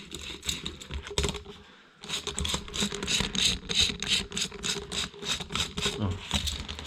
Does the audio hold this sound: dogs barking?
no